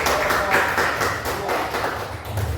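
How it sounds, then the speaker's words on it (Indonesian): Classroom applause from students fills the room, a steady wash of clapping with brief louder bursts and no one speaking over it. "Kita tepuk tangan untuk"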